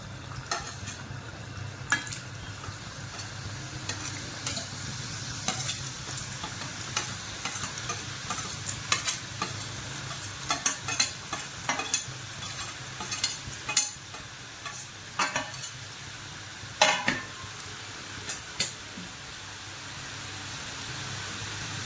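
Cheese shankarpali fry in hot oil, a steady sizzling hiss broken by frequent sharp scrapes and clinks of stirring, irregular and close, easing off toward the end.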